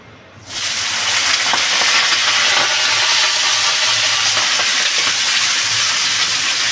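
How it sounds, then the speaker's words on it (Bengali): Vegetables hit hot oil in a wok with a sudden loud sizzle, settling into a steady, close, hissing fry that continues unbroken. "তা আমি সবজিটা আগে একটু ভেজে নেব।"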